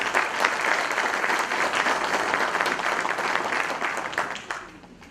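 Loud, sustained applause from an audience at a national notarial conference in Cusco, steady for several seconds before tapering off at the end.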